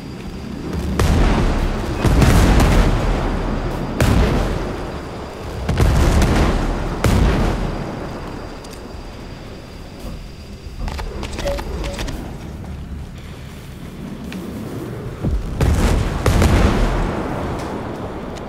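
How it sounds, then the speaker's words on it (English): Frag grenade explosions in Ghost Recon Breakpoint during a fight with the Behemoth, several heavy booms spaced a few seconds apart, loud and close, with rumbling decay between blasts. "Frag grenades."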